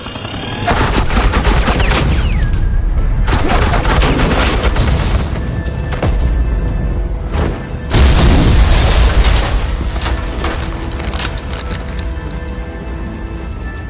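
Sustained gunfire and heavy booming explosions in the Batman Telltale video game, loud dense bursts of automatic fire with brief pauses, a loud blast near the middle, no voices.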